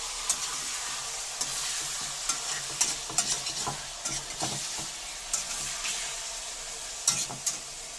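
Sliced onions sizzle and fry in a pan for a Malayalam-style handi chicken dish, with a steady hiss and scattered stirring scrapes and clinks throughout, no talking.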